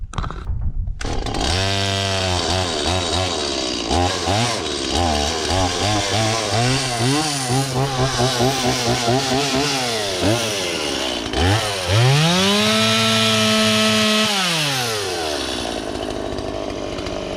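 A chainsaw roars close by for the whole stretch while felling a tree, its engine pitch rising and falling repeatedly as it revs and bites into wood.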